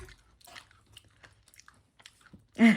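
Crunchy homemade chikki is chewed close up in sparse, quiet crunches and clicks, followed at the end by a short, louder burst of voice.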